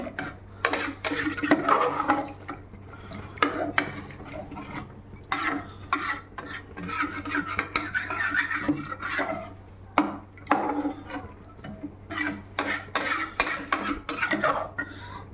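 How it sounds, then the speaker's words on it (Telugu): Semiya biryani being stirred in a pan, close scraping and rubbing strokes in irregular bursts with small knocks against the pan, over a faint steady hum, with no talk. "ఇప్పుడు చూడండి బాగా కలుపుతున్నాను ఒకసారి"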